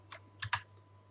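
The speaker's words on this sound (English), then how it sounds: "I'm going to type in here" Three quick, crisp keystrokes on a computer keyboard, close and isolated over a low steady hum.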